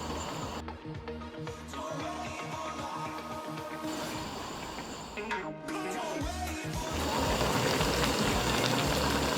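Steady bubbling and simmering of a pot of bean sprout bulgogi with octopus, with a dense wash of small pops and gurgles that grows slightly louder toward the end.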